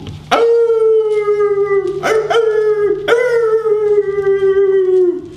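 A wolf howls loudly and close by in long, sustained tonal wails, three separate rising howls that hold steady and slowly fall away, with nothing else heard behind them.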